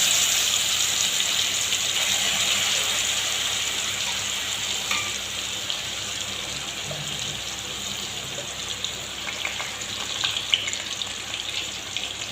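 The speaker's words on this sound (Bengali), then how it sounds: "সর্ষে তেলের মধ্যে মাংসের টুকরোগুলো ছেড়ে দিচ্ছি" Pieces of spiced meat frying in mustard oil, a steady hiss and crackle of sizzling fat running unbroken for the whole stretch, with a few sharper pops near the end.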